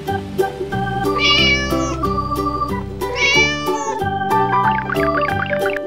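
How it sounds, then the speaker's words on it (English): Two drawn-out cat meows ring out clearly over cheerful background music. "Cat."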